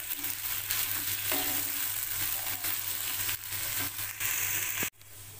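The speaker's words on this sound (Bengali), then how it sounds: "এবারে আমি সমস্ত একসাথে ফ্রাই করব।" Vegetables with chopped green chilli stir-frying together in a pan for fried rice, giving a soft continuous sizzle with occasional stirring scrapes, quiet and close, ending in a brief clunk.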